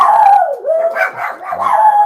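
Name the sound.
Chihuahua mix dogs barking and howling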